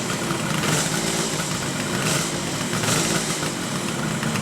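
Restored Kawasaki 500 H1 motorcycle engine running steadily with a dense, buzzing two-stroke roar, loud and close, with one cylinder sticking and the pipe smoking, holding an even level throughout with no voices.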